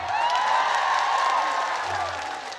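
Audience at an Islamic sermon (ceramah) by KH. Anwar Zahid in a village in Rokan Hulu, Riau, breaking into sustained applause and cheering that holds steady, then eases slightly toward the end.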